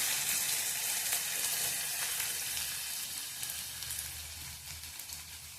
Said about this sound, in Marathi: कांदा तेलात चांगला भाजून घ्यायचा आहे, हलकासा सोनेरी कलर येईपर्यंत